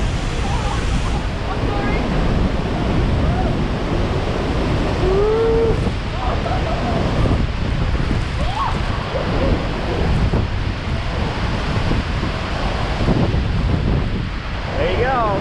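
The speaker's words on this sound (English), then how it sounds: "Yeah, it's windy." Strong wind buffeting at Niagara Falls, with the roar of falling water beneath and crowd chatter in the distance; gusts thump steadily on the microphone while people talk.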